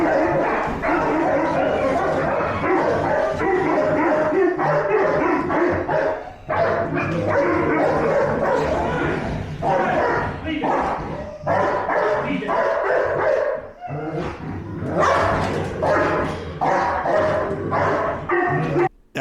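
Several dogs in a boarding kennel bark, yip and whimper almost continuously, loud and close with overlapping voices, while a person occasionally speaks over the commotion.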